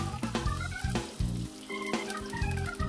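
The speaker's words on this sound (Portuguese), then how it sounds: "Dá uma mexida legal para envolver bem a cebola e a manteiga" Ketchup being stirred into sautéed onion and butter in a pan, a steady soft sizzle with intermittent scraping and stirring knocks throughout.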